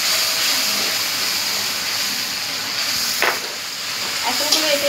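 Chicken stirred in a sizzling pan sauce of tomato and chilli sauce, a steady broadband frying hiss with a couple of brief scraping clinks near the end.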